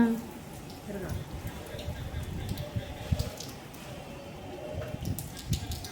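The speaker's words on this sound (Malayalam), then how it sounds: "മഴയാണ് ഗെയ്സ് മഴയാണ്" Rain falls steadily outdoors during a windy storm, a dense, hissing patter at moderate level, with voices talking over it.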